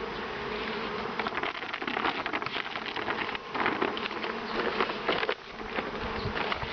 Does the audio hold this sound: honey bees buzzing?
yes